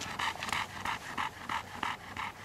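A hunting dog pants rapidly and rhythmically at close range, with quick regular breaths throughout and no talking.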